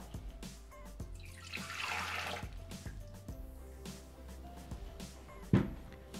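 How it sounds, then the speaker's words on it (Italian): Water poured into the bowl of a Thermomix TM6 kitchen machine while making Tumminia bread, a soft splashing trickle with quiet knocks and a sharp clunk near the end, no talking. "Iniziamo la ricetta mettendo all'interno del boccale l'acqua"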